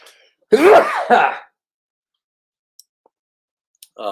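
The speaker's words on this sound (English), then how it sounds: "I got to sneeze now, hold on" A single loud, close sneeze-like burst, followed by near silence with a couple of faint clicks.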